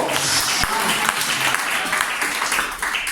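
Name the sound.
congregation applauding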